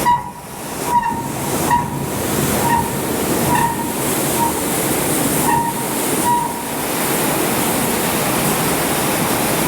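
Slightly wet grain pours through an opened bin gate in a steady, loud rushing hiss, with a few faint rhythmic knocks in the first half.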